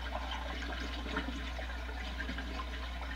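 Muddy water in a bathtub in the Resident Evil video game: a steady, close rushing and gurgling of water that stays even throughout, with no voices.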